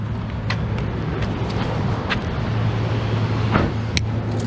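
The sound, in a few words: car engine running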